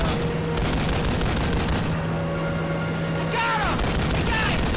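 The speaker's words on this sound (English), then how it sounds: "Keep firing! We gotta get in there and take out that machine gun!" Gunfire and machine gun bursts crackle in the World War II shooter Call of Duty: The Big Red One. Shots come in rapid, overlapping volleys with a metallic sweep near the end and a low steady hum underneath.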